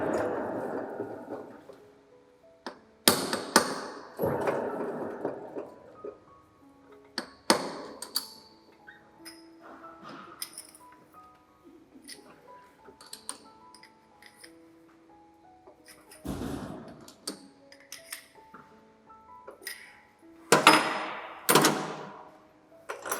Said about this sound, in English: Now you see the knurling operation.